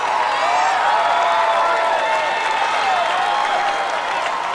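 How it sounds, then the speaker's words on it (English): A large, enthusiastic crowd cheers and applauds without pause at a Sasuke American obstacle course as a competitor takes on the wind chimes obstacle, a dense, loud roar of clapping and shouting throughout. "He's got a crazy crowd cheering him on as he takes on the wind chimes"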